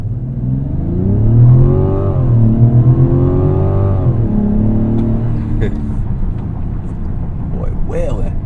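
A heavy 2025 Mazda CX-70 SUV engine revs up hard under full acceleration, its pitch climbing and holding in a strained roar before settling into a lower drone, loud and near.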